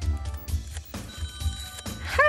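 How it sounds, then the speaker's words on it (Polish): A telephone rings repeatedly during a live Polish TV call-in game show, Kasa gra, with studio music underneath; the trilling bell bursts come in a steady rhythm, fairly loud and close. "Dzwoni telefon."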